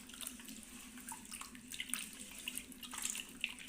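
Mutton intestines are kneaded and rinsed by hand in water with turmeric, giving soft, close sloshing and trickling splashes at a low level with no talking.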